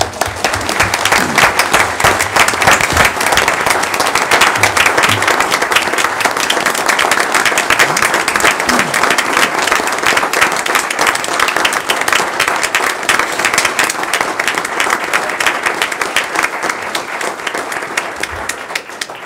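Sustained applause and standing ovation from a large crowd at a City of Franklin board meeting, loud and steady for many seconds, with the dense clatter of many hands clapping at once.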